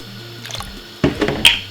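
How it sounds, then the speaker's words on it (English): Two cups of whole milk pour into a pot of Jamaican cornmeal porridge with coconut milk: a brief close splash and trickle about a second in, followed by a couple of small drips. "Then we're gonna put 2 cups of whole milk."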